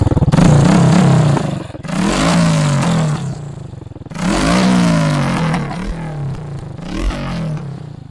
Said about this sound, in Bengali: এক্সজস্টের সাউন্ড আপনাকে করে শোনামু, অনেক মিষ্টি একটা সাউন্ড